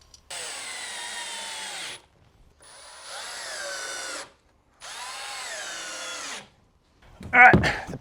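A power drill drives screws to fix three hinges across the back of a bed frame. There are three close, loud whirring runs, each about two seconds long, with short pauses between them, then a sharp clatter at the end.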